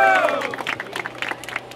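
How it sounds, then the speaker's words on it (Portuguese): Crowd at a Brazilian rap battle bursts into shouts, whistles and cheering, with a spread of claps and scattered yells over a short, fairly loud moment. "Quem acha que Rei Liel levou esse round, faz barulho"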